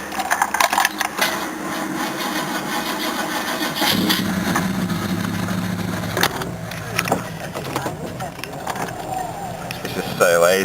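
A car engine cranks and starts up for a short drive to a fast-food drive-thru, turning over and settling into a running rumble while someone talks over it.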